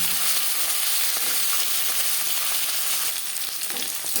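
Carrots and beans hitting hot oil with dried chili, cumin and bay leaves, a dense, loud, continuous hissing sizzle that fills the whole moment, slightly easing near the end, no voices.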